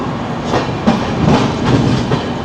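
The Mahalaxmi Express pulls out of Kalyan Junction at night, its wheels beating a loud rhythmic clickety-clack over rail joints, heard close from inside the carriage with a rushing rumble beneath.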